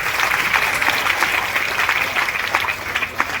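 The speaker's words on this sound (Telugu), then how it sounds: "అందరి గట్టిగా చప్పట్లతో" Loud, steady applause from a church congregation gathered for a New Year celebration, many hands clapping together continuously with no voices standing out.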